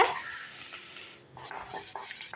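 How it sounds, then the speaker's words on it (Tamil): Onion, dried red chillies and curry leaves being stirred in a pan, a spoon scraping and clinking against the metal in short quiet strokes with a soft frying hiss underneath. "இப்போ 2 வரமிளகாய், கொஞ்சம் கருவேப்பிலை சேர்த்து இதை நல்லா கலந்து விட்டுடலாம்"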